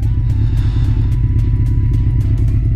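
Big motorcycle cruising an old national highway toward Hagi and Susa in Yamaguchi, with a steady loud low engine rumble, wind noise and light rhythmic clatter throughout.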